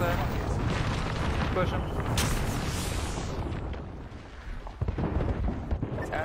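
Artillery strike explosions in the video game Apex Legends, a continuous loud rumbling barrage of booms rolling for several seconds, with a sharper blast near the end and players talking over the noise.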